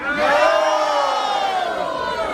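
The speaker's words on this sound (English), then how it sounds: "you just got them all to yell no" A large live audience shouting together in one sustained, loud collective yell that swells and slowly fades, with voices blending into a roaring chorus.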